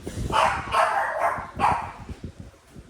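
Benny, a shelter dog, lets out a run of four or five close, loud barks in quick succession while seeking attention, with no one talking over them.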